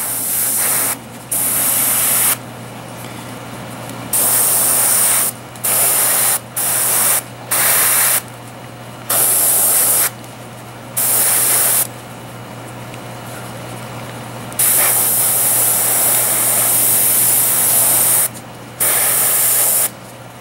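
Airbrush spraying primer onto a D&D beholder miniature, a close, loud hiss in repeated bursts of about one to three seconds, separated by brief pauses, over a steady low hum.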